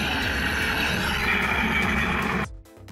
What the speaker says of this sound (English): with the Stormbreaker axe with sound effects